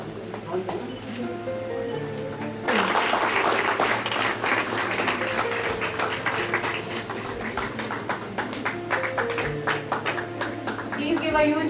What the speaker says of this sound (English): Please give a huge round of applause for the first rank holder, JVM Manasvi